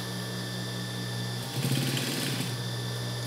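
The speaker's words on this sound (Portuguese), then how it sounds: "Vamos passar a costura todinha aqui, bem pertinho aqui, ok?" Sewing machine stitching a seam on a child's denim skirt, a steady high mechanical whir with a brief faster, louder burst of stitching in the middle.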